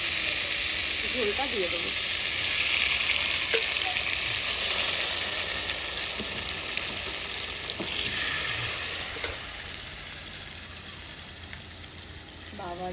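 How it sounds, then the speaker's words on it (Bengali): Pieces of hilsa fish are laid one by one into hot oil and fry with a loud, dense, continuous sizzle that eases off toward the end, while someone speaks briefly over the cooking. "এক এক করে আগে মাছগুলো দিই"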